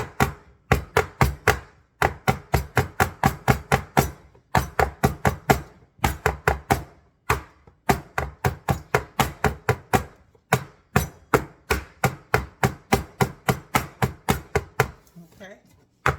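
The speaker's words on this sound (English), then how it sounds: "I'm gonna kind of tap it against my counter, try to get some of the air bubbles out of it." A cake pan of butter cake batter is tapped repeatedly against a kitchen counter in quick bursts of sharp knocks, loud and close, with brief pauses between runs.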